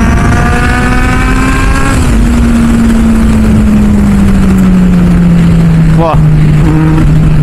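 A Kawasaki Z800 motorcycle engine and exhaust drone steadily while riding, the pitch dipping as it revs up and eases off, with a brief sharp rasp near the end and a voice speaking briefly.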